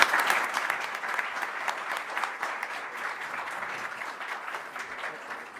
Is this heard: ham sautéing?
no